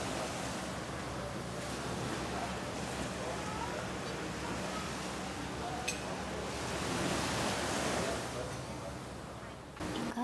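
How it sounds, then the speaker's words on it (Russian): Steady roar of ocean surf washing ashore in the Maldives, constant and broad, with a slight swell in loudness toward the end. "наслаждаетесь шумом прибоя и видом"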